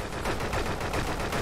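Rapid automatic gunfire in the survival shooter Deadside, a continuous loud burst of shots with no talking over it.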